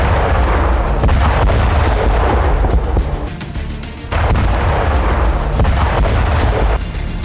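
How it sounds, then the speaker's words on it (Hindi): A bomb dropped by a Lancet drone onto soldiers' positions explodes with a loud, rumbling roar that lasts several seconds, dips briefly, then swells again into heavy booming noise. "जोरदार धमाका।"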